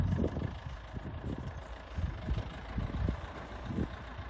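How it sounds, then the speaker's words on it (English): A tractor is loaded onto the back of a flatbed truck on a farm, its engine rumbling close by and surging in repeated low bursts throughout, with no voices. "Loading the tractor onto the back of the flatbed."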